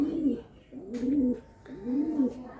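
Giribaz pigeons coo in three throaty, wavering phrases over a soft background hiss, moderately close with brief pauses between each call.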